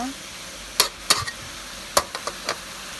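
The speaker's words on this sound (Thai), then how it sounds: "ผัดให้เข้ากันเลยนะคะ" Sour bamboo shoots and chicken being stir-fried in a pan: a handful of sharp, separate spatula scrapes and clacks over a faint, steady sizzle, close by with no talking.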